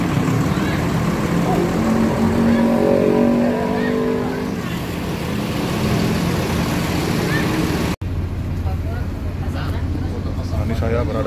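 A Pangeran bus engine idles after being started, a low steady rumble inside the cabin under a person talking, with a brief cut near the end before the idle continues.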